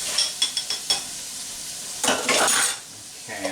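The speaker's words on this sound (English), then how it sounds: "So I'm going to sweat that around with my onions." Onions and garlic sweating in a hot pan give a soft sizzle, with a few quick clinks and scrapes of a utensil stirring them around, close and without talking.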